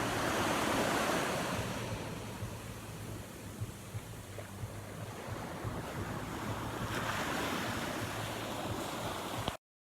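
Ocean surf rolls onto a beach in Mexico as a steady, broad wash of breaking waves with wind buffeting the microphone, continuous for about ten seconds before cutting off abruptly, with no voices.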